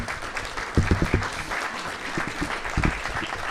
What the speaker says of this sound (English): So a round of applause for everyone who made this happen